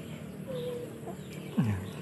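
Backyard chickens, some sick with colds, cluck softly in a coop, a faint drawn-out call followed by a sharper, louder cluck near the end.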